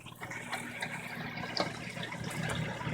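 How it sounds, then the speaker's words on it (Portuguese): A Brastemp 15 kg washing machine sprays water into the drum before the spin cycle, a steady close gushing and splashing that swells slightly over a few seconds. "é essa jogada de água no início de toda a centrifugação"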